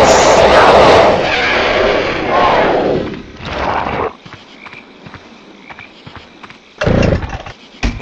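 A chainsaw revs loud and close in the video game Evil Dead Hail To The King amid combat noise, then cuts out, leaving scattered footsteps and clatter before a brief final burst.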